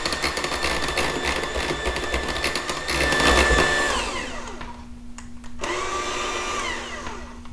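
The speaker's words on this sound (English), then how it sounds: "I'm just going to let everything beat together for another 30 seconds or so to make sure everything is well incorporated and nice and thick and creamy" Electric mixer beating homemade mayonnaise with oil, a steady whirring motor that dips briefly and picks up again, close and continuous with no talking.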